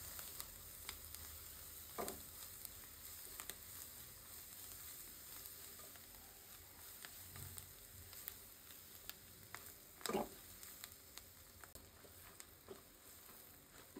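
Chopped onion frying lightly in a pan for oats vegetable fried rice, a steady soft sizzle running throughout at moderate distance, with a few brief stirring scrapes and clicks over the hiss.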